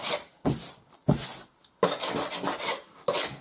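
Surfaces being scraped during a home renovation: several harsh rasping strokes in quick bursts with short pauses between them, close and fairly loud, with no talking.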